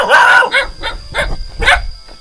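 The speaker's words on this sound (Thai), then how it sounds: "อันนี้เป็นสัญชาตญาณของหมามันจะเห่ามันจะฮ้องเวลามีแขกต่างบ้านต่างเมืองมาเนาะ" Dogs bark at visiting strangers in a rural village near the Vietnam border, giving a long opening bark and then several shorter barks in an irregular series, loud and close, with no talking.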